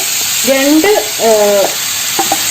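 Small pieces of chopped ripe plantain frying in melted ghee in a pan for a banana bread toast snack, with a steady loud sizzle under someone speaking.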